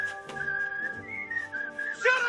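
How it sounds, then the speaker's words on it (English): Thugs in a 1978 Superman film series whistle at a man returning to a labour camp, a few wavering, catcalling whistles with pitch slides over a faint background drone, ending in a brighter upward flourish. "the thugs, including the one who looks a bit like Otis, whistled at Lex as he comes back to the labour camp to annoy him"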